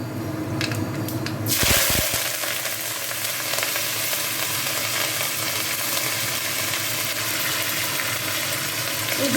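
Curry leaves hit hot oil with fenugreek seeds for a masala dosa filling, setting off a sudden sharp crackle that settles into a steady, close sizzle of frying.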